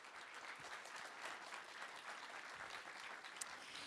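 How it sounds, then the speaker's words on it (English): Faint, distant applause for the launch team during the live broadcast of NASA's Parker Solar Probe launch: an even, continuous wash of clapping from a gathered group that sustains at low level throughout. "Let's give a nice round of applause for our launch team here."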